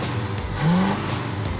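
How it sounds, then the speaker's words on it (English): A truck engine rumbles steadily and briefly revs upward, its pitch climbing for a moment before settling back to a rough idle. "the truck is running-ish"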